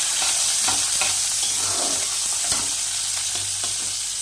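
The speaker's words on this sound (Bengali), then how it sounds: "পেঁয়াজটাকে এখন নেড়ে চেড়ে বাদামি বর্ণের করে ভেজে তুলে নিতে হবে" Onions fry in hot oil for a prawn bhuna, stirred until brown, giving a loud, constant sizzle broken by regular scraping stirs close by.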